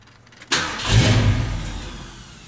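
A car engine cranks briefly and catches, then runs at a steady, fairly loud idle that slowly settles, heard close with no talking.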